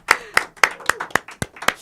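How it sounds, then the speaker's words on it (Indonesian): Seven or eight crisp, evenly spaced hand claps in quick succession at the close of a podcast about scholarships, near and clear with nothing else over them. "Tepuk tangan dulu buat Mbak Nisa."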